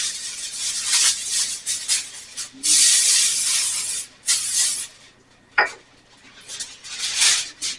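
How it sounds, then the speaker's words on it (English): Several short bursts of hissing cooking spray onto foil, close by, separated by brief pauses, with a quick metallic clink in between. "Spray our foil here and then cover it."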